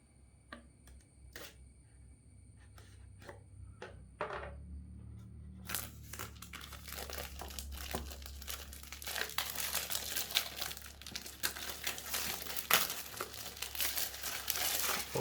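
Plastic wrap being peeled off a Realme GT Master phone box in Luna White: a few sharp clicks first, then a long stretch of close, steady crinkling and crackling film that grows louder.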